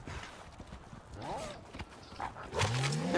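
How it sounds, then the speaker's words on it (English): A boar in a video game grunts and snorts amid footstep-like thuds, then lets out a louder rising squeal near the end, with a person talking over it. "Let's tame this boar."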